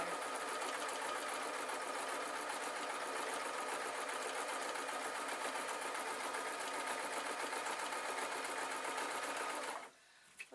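A sewing machine stitches a jacket seam with binding tape in one fast, steady run of close mechanical rattling that stops abruptly near the end.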